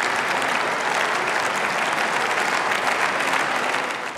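Sustained, dense applause from the Union faction's benches in a German parliament session, a steady wash of many hands clapping at close range with no voices standing out.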